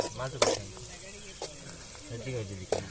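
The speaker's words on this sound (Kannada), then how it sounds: "ನೀರುಳ್ಳಿ ಬೇಯೊಂದುಂಡು ಎಡ್ಡೆ ಫ್ರೈ ಮಾಡ್ತೊಂದು" Onions frying in a pan, a steady close sizzle with a few sharp stirring scrapes and clinks, under intermittent talk nearby.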